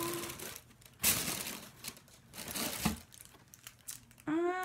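A piece of paper is handled nearby, crinkling and rustling in irregular bursts at moderate volume, with a short tonal sound at the very end.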